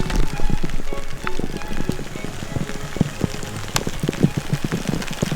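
Rain pattering steadily on open moorland at Tavy Cleave, Dartmoor, with dense irregular drops striking near the listener and a continuous wet hiss underneath, growing heavier through the stretch.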